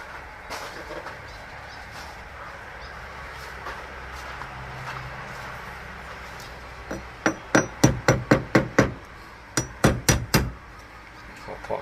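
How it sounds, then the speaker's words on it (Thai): A rapid series of sharp metallic hammer strikes on copper pipe, about a dozen evenly spaced blows, after a stretch of quieter handling noise. "ค้อนตอก"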